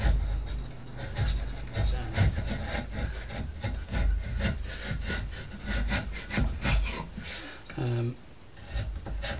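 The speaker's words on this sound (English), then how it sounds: "I'm just going to run a chisel down it" Chisel scraping along a central groove cut in the wooden stock of a Dark Ages-style crossbow, giving repeated close rasping strokes in an even rhythm that pauses briefly near the end.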